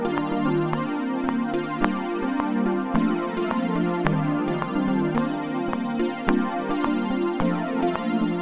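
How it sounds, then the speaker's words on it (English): Annabelle synth preset from Pigments plays a melody over a dense, continuous bed of tones with regular percussive accents, steady and fairly loud throughout, with no voices. "I'm going to be using this sound inside Pigments called Annabelle."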